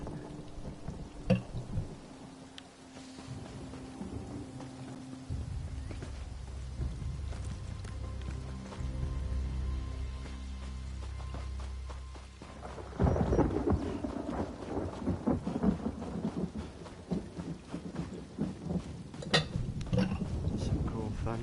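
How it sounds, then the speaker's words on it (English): A thunderstorm in the Elder Scrolls video game brings steady rain with deep rolling thunder that swells in the middle. Someone talks over it in places. "Some cool thunder effects."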